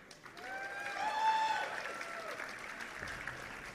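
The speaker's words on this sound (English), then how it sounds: "Let's hear a cheer." A live esports crowd at a StarCraft II tournament cheers and applauds continuously, with whoops and shouts rising over steady clapping that swells and then holds.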